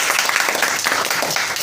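Brief burst of dense audience clapping at an English institute award ceremony in Khanpur, New Delhi, steady and fairly loud throughout with no pauses.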